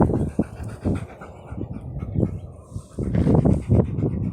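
Sadie the dog pants close by at an outdoor dog park, a quick uneven run of breathy puffs that grows louder and busier toward the end.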